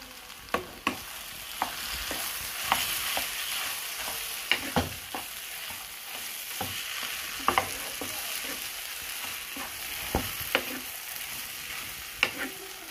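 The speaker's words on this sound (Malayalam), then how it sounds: "ഇതിനെ നമുക്ക് നന്നായിട്ടൊന്ന് ഇളക്കി യോജിപ്പിക്കണം ഇതിനകത്തോട്ട്" Mashed potato stirred into a frying dosa masala filling for Kerala-style masala dosa, a steady sizzle under repeated scraping clicks of a spoon against the pan, close and moderately loud, with no talking.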